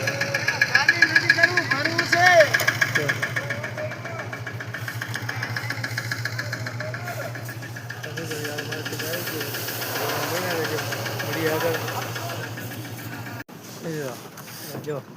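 A tractor engine idles with a steady low, knocking chug close by at the Jamjodhpur APMC market yard, while people talk over it; the engine cuts out near the end.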